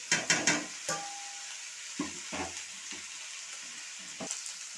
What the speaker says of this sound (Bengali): এখন আমি এই যে সবজিগুলো সব ঢেলে দিচ্ছি এতে কিন্তু আমি একটু এই যে নারকোলও দিয়ে দিচ্ছি